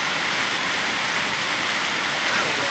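Heavy rain pours steadily during a storm in Canton, Oklahoma, a dense, even hiss that runs without a break and carries no voices.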